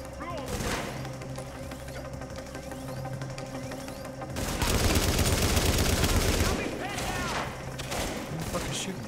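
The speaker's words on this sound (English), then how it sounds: "Who the fuck is shooting?" Sustained gunfire in The Division during a survival run: repeated rapid shots throughout, building into an intense close fusillade midway, then continuing bursts, with voices talking underneath.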